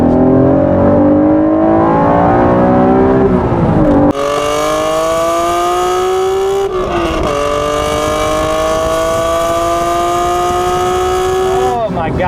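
A 1991 Honda NSX supercar's engine revs hard toward its 7,800 RPM redline, rising in loud sustained pulls with sharp shifts between gears, very near and dominant, with a voice heard beneath.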